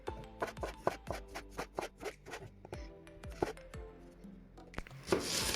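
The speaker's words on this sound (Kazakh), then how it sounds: "Одан кейін қызанақты да дәл осындай ұзынша түрде турап" A knife chops a tomato into long strips on a cutting board, steady close taps in an even rhythm with a scraping sweep at the end, no talking.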